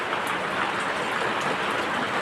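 Rain falls steadily in a pre-summer downpour, a soft, even hiss of drops on surfaces that holds constant throughout.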